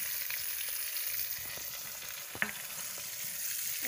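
Stuffed bitter gourd, karela kalonji, frying in a pan with a steady hiss of oil, a few faint utensil touches and one sharper clink.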